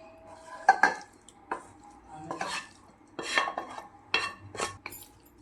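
Chicken pieces stirred together with tandoori mayonnaise and red chilli sauce in a bowl, a spoon clinking and scraping in several irregular bursts with wet squelching between them, close and fairly quiet, with no voices.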